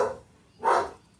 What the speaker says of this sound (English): You'll hear my dogs.